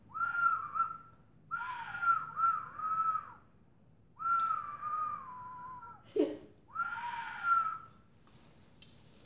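Loud, clear whistling in several short bursts with pauses between them, the pitch wavering and sliding, close by in a quiet setting.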